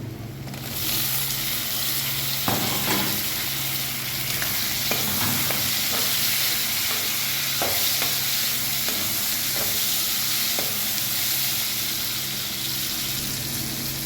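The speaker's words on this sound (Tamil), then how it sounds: "வெங்காயம் நல்லா வதங்கிட்டு தக்காளி சேர்த்துருக்காங்க." Chopped onions and tomatoes sautéing in a pan for an eggplant curry, giving a steady close sizzle with occasional scraping stirs, no talking.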